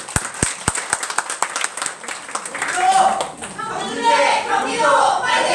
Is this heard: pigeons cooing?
no